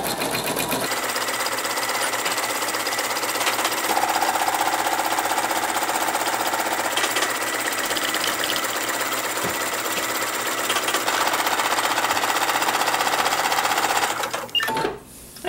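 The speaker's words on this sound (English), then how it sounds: "you're going to press button, and it's going to stitch a basting line" An embroidery sewing machine stitches a basting line around a loaded hoop with a steady, fast mechanical whir and rattle, loud and close, running alone for most of the stretch before slowing to a stop near the end.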